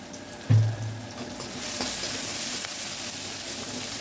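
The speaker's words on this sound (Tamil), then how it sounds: "இது இன்னொரு ரெண்டு நிமிஷம் ஃப்ரை ஆகட்டும்" Maggi noodles drop into hot oil with a brief thump, then a steady sizzling hiss of frying continues close by.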